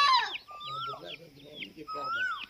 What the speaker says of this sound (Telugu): చూడండి మొత్తం కోళ్ళే ఉన్నాయి ఇక్కడ